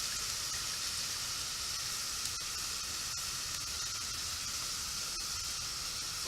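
Freshly caught scallops cooking down in a hot pan, a constant close sizzle and crackling hiss with occasional small pops, steady throughout.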